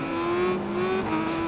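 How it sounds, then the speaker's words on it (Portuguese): Motorcycle engine from the racing game RIDE 5, a steady droning hum that rises slightly in pitch and holds near and loud throughout, with no talking. "porque também a moto faz muito barulho aqui"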